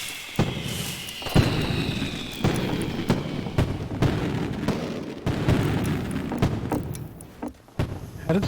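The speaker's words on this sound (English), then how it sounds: "How did somebody just get killed by a firework?" Repeated booming bursts and sharp pops of fireworks in a game, irregular blasts over a busy background, with a voice faintly mixed in.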